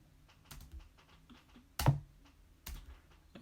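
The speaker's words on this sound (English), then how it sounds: "here's the sound of the cardboard box by itself" A cardboard box struck as a drum sample gives soft, dull thuds with papery slaps, a few light taps and three firmer hits spaced irregularly, close and quiet with nothing else around.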